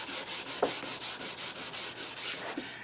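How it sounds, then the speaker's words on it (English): Wood being sanded by hand for a bedside caddy, a steady back-and-forth scraping rhythm of about a dozen even strokes, close and clear with no talking. "We'll cut down on how easy it is for me to sand right to the edge."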